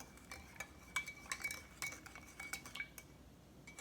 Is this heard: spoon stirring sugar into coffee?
yes